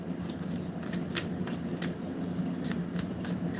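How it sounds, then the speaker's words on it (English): Tarot cards being shuffled, with a string of quick papery riffles and snaps at a brisk, irregular pace, close to the microphone, over a low background hum. "I've been shuffling."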